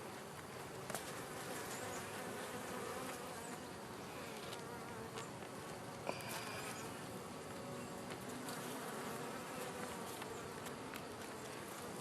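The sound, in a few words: honeybees buzzing in a new hive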